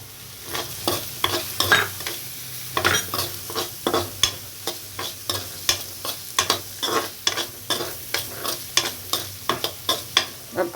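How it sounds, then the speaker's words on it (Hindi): Boiled peas tipped into a frying aloo patty masala and stirred with a spoon, giving repeated scraping, clattering strokes against the pan over a steady low sizzle, fairly close and with no talk. "ये बॉईल करे मटर डालेंगे।"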